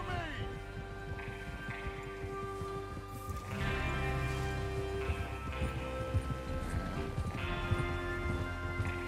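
Horses galloping in the Western video game Red Dead Redemption 2, a rolling clip-clop of several hooves close by, mixed with game music and background effects, growing fuller midway through.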